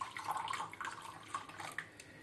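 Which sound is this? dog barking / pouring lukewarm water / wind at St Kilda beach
pouring lukewarm water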